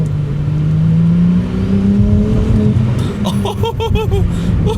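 Ferrari 296 Speciale V6 hybrid engine accelerating, a loud close rising drone from inside the car that eases off and builds again, with a burst of laughter near the end.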